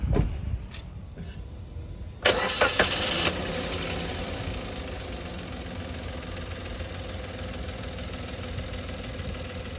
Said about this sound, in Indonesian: inilah dia ya mesinnya K10B 3 silinder